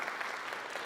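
An audience at an outdoor Justice Day event at the Capitol gives a brief burst of steady, distant-sounding clapping.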